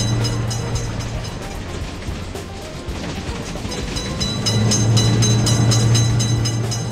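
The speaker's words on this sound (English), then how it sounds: "Train is coming. Train is in sight." A train rumbles past a railroad crossing in a car and bus driving game, a loud continuous roll with rhythmic clatter and a low steady hum that builds toward the end, with no talk.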